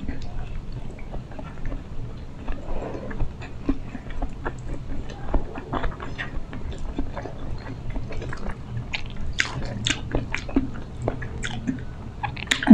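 Close, steady chewing and biting on arroz a la cubana with ground meat, egg and banana, eaten with pancit canton; soft wet squishes and small crunches repeat throughout with no talking.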